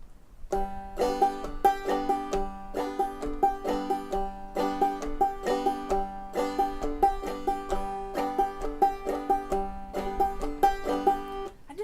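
Bass guitar plays a double-thumbing exercise with an alternating pattern on the fourth string at a brisk tempo, a steady run of punchy, evenly spaced thumb attacks with ringing low notes, close and unaccompanied.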